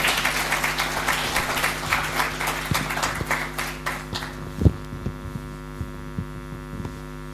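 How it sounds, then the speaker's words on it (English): Studio audience at a live commemoration event applauds as a speaker is invited on stage; the clapping fades out over a steady loud mains hum, leaving a few scattered claps and thumps. "Please give her a clap."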